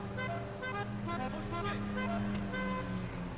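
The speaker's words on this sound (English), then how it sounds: "cars sound so good in the tunnel" Car engine and road noise in a tunnel in GTA V, a steady, fairly loud drone with tonal engine hum and faint horn-like toots, echoing continuously throughout.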